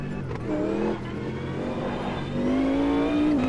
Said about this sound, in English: Very different sound from that engine.